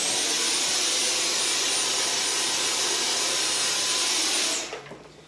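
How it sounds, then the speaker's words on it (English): A Dyson cordless vacuum cleaner fitted with an adaptive attachment runs with a steady high-pitched whirring hiss, then winds down quickly as it is switched off near the end. "If I were to engage the trigger, I can lean over, I can vacuum, right?"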